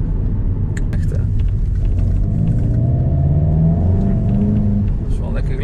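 A Volkswagen Golf GTI TCR engine rumbles loudly and steadily, its pitch rising as it accelerates, with a voice speaking briefly over the engine noise.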